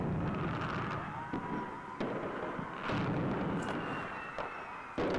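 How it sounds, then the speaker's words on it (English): Distant New Year's fireworks pop and thud in scattered bursts roughly every second, fairly faint over a constant background rumble. "I'm still going to assume this is New Year and this is fireworks and not firebombing"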